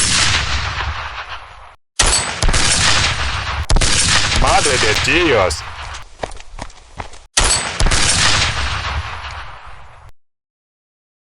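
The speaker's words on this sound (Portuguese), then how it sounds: "Patrão Sam, tiros na colina." Gunfire from a Western film shootout on a hillside crackles in loud, rapid bursts with short gaps, and someone briefly shouts an exclamation amid the shots.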